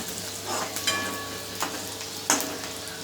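Onions frying in oil over a medium gas flame for tondli bhaji, a steady close sizzle broken by a few sharp stirring scrapes.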